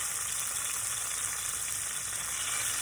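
Boiled beans fry in a hot pan, with a steady, even sizzle and fine crackle that continues unbroken at moderate volume, with no voices.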